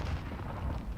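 A stun grenade going off in a shooter video game, one deep, rumbling blast with a heavy low-end boom that fills the short moment, close and loud.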